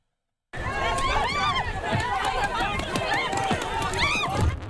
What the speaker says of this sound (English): The crowd runs as canisters of gas hit the ground off Laguna Road